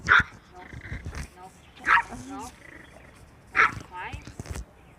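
A jealous dog gives three loud, separate barks mixed with whining and whimpering, close by, while someone talks between the barks.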